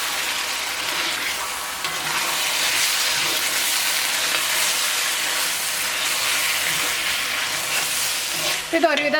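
Chicken roast fries in a pan with a steady, close sizzle and crackle while it is stirred now and then, and a voice briefly cuts in at the very end.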